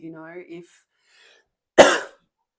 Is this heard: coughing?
yes